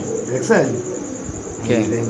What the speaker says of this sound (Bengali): একটা রেসার কবুতর